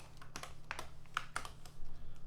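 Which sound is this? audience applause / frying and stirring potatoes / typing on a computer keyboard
typing on a computer keyboard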